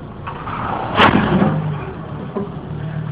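A Volvo 850 AWD pushing against a wooden block under heavy throttle, its engine straining with a steady low rumble and a brief louder surge near the start, while the slipping viscous clutch keeps the car crawling forward.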